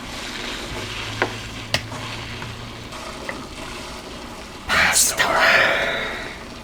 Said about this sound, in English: So we're gonna add a jar of sauce. Stir that in. Stir it up.